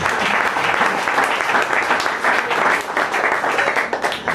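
Congregation at a Congolese church service applauding for the glory of God, a dense, steady wash of many hands clapping at once, sustained loudly throughout with little variation.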